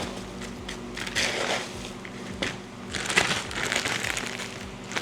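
Food pieces are smashed inside a bag for a meal-prep bowl, giving a series of crunching, crinkling bursts of plastic and crushed food, irregular and close, with short pauses between the hits.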